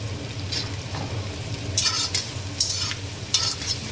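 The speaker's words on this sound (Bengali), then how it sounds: "এর মধ্যে আমি কাঁচা পেঁয়াজ দিয়ে দেবো, পেঁয়াজটা খুব লাল লাল করে ভাজতে হবে।" Raw onions frying in a pan for a spicy mutton curry, with a steady close sizzle and several scraping stirs of a utensil against the pan, no talking.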